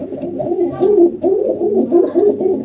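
Pigeons coo close by in repeated soft, throaty rolling phrases, several in quick succession, with a brief faint higher chirp partway through.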